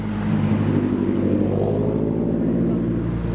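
JDM cars roll out of a car meet, including a turbocharged Mazda 3 MPS, with a loud, continuous low engine rumble and drone from vehicles passing nearby.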